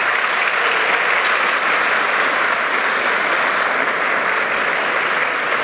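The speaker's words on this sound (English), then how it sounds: "Round of applause for Charles Pearce." Sustained, dense applause from an audience at a business presentation on special pricing agreements, loud and even throughout without a break, no voices on top.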